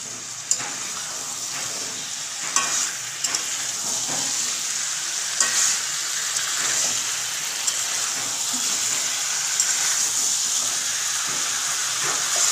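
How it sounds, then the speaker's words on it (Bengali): Meat and pre-fried potatoes sautéing together in a pan over high gas flame, a steady loud sizzle running throughout with scattered scrapes and clicks of stirring. "মাংস কষা হচ্ছে, এর সাথে আমি ভেজে রাখা আলুগুলোও দিয়ে দেবো, দিয়ে একসাথে ভালো করে কষাবো।"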